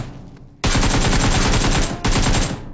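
Rapid automatic gunfire in an online shooter video game, two loud sustained bursts back to back, the first running over a second and the second briefly after a short break, with quieter game ambience before.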